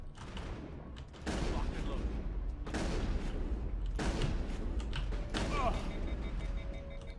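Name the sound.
shotgun gunfire in Mass Effect video game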